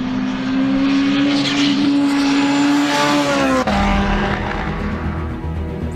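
A Porsche 919 Hybrid Evo race car with a 1200-horsepower powertrain roars past at Spa-Francorchamps, a loud, close, sustained engine whine with rising pitch that drops as the car passes.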